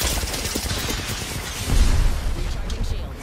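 Video game gunfire crackles through busy game noise, with a heavier booming hit about halfway through.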